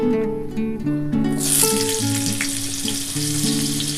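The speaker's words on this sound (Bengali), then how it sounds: "দেখো, আমার তেলটা কিন্তু গরম হয়ে গেছে। এবার আমি আলুটা প্রথমে দিয়ে দিচ্ছি।" Potato pieces go into hot oil for a Bengali vegetable jhol. A loud sizzling burst starts partway through and keeps frying steadily, with a sustained tonal hum underneath.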